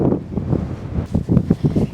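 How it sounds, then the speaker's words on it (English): Strong wind buffets a microphone outdoors in Saudi Arabia, coming as loud, uneven low rumbling gusts that rise and fall throughout with no break. "It's extremely windy."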